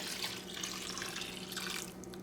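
About two cups of liquid from a bottle poured into a cooking pot while mussels are being cooked, a steady, soft splashing stream running for a couple of seconds with no voices.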